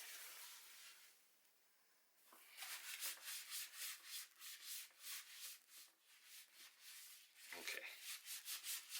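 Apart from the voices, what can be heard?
wiping a surface with rubbing alcohol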